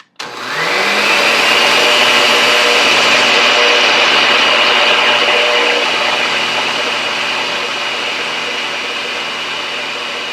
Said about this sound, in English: you're just going to close the blender up and just blend it until you get to a creamy consistency